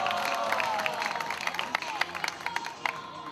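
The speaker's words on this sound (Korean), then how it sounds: "박수 부탁드립니다." Audience applause at an outdoor peace rally in Gwangju for a Korean Peninsula peace treaty, steady crowd clapping and murmur with sharper individual claps standing out toward the end.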